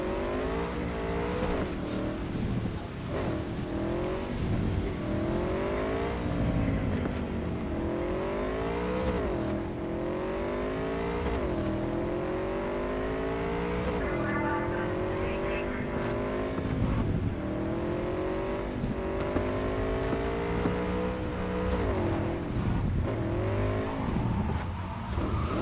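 A motorcycle engine in the video game Cyberpunk 2077 runs loud and continuous, revving up and down in repeated rising sweeps as the bike is ridden, with tire noise and game sounds mixed in and occasional talk over it.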